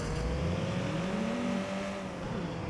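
A car drives in Watch Dogs 2 with a continuous close engine drone whose pitch climbs and then eases off, like a steady cruise with light revving, and no talking.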